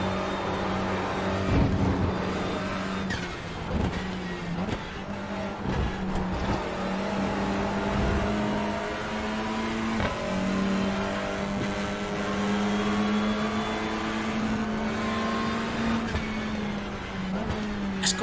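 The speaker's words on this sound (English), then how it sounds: "That sounds like a normal car downshift." A simulated Honda Civic race car in iRacing VR, with a steady, loud engine drone that rises and falls through revs and downshifts, shifting pitch repeatedly over a sustained run with no talk.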